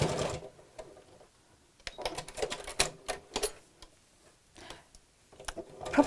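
A domestic sewing machine stitches a seam on a fat-quarter fabric tote bag, running in short irregular bursts of rapid ticking separated by brief pauses, fairly quiet and close.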